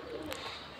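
A pet pigeon coos once, soft and low, in a brief murmuring call at close range over quiet room background.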